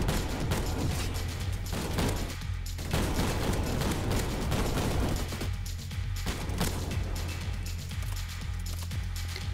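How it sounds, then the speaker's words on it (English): Rapid, dense bursts of semi-automatic SPAS shotgun fire in a video game, booming blasts overlapping continuously with brief gaps, loud and close throughout. "Now spaz, let's get the spaz going. Here we go, my favorite semi-auto shotgun."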